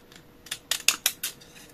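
Scissors snip through paper scraps in a short run of about five sharp close clicks, quiet and crisp with no talking.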